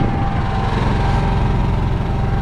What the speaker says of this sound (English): We've got the genset going, no problems.